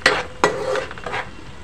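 Onions are stirred in a pan: two sharp metal spoon scrapes against the pan with a brief faint sizzle between them, close up and with no voice.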